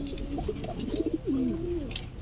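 A satin pigeon coos softly close by, a few short throaty notes followed by a longer rolling coo, with faint chirps in the background.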